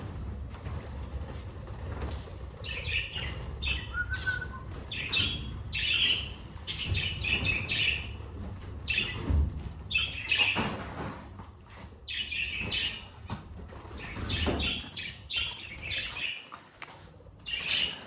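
Pet budgerigars chirp and tweet repeatedly after being released into a large cage, with bursts of high, bright calls, occasional squawks and brief wing flapping over a steady low room background.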